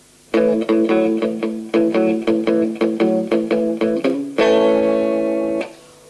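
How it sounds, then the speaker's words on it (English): Chunky, palm-muted electric guitar chords chugging in quick rhythmic bursts, then a fuller open chord rings out before stopping, loud and close. "you can use this technique either to get quite a chunky chord sound like this"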